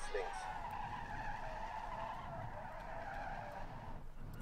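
Tires squeal in a long, steady screech from a rally car in WRC 5, with engine noise running underneath throughout, close and loud.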